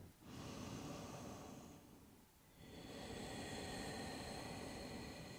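Slow, deep yoga breaths, a long airy inhale then a pause and another drawn-out breath, close and fairly quiet with no talking.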